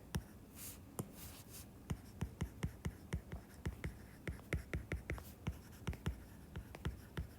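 A pen scratches and taps on paper as a diagram is drawn, a steady series of quick crisp strokes close by, with soft background noise.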